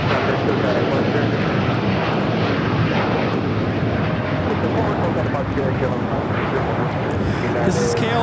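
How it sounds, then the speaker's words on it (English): A KLM Boeing 787-9 Dreamliner takes off at LAX, heard as a loud, continuous jet engine roar that stays steady throughout, with faint talk underneath. "This is KLM 604 taking off to Amsterdam on a 787-9 Dreamliner."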